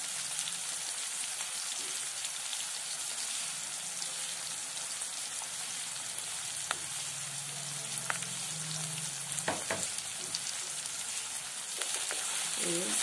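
Coriander and curry leaves fry in a pan while wheat noodles are being made, giving a steady broadband sizzle with a few sharper pops and clicks of stirring throughout.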